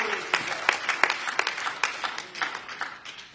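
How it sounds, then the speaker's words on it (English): Church congregation clapping in praise at a Sunday worship service, a scattered, uneven run of hand claps at moderate level with faint voices mixed in. "Give God a hand clap of praise."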